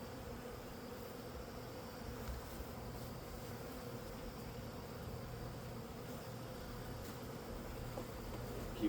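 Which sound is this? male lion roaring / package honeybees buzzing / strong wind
package honeybees buzzing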